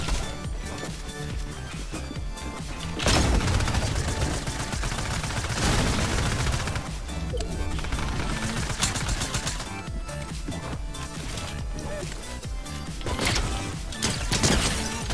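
Gunfire in a Fortnite build-mode match: sharp, loud bursts of rapid shots and heavy impacts crowd together with dense game sound and music, with several strong volleys standing out.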